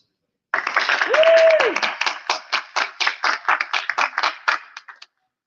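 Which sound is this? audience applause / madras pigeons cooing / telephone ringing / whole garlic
audience applause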